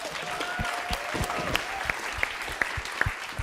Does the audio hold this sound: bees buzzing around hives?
no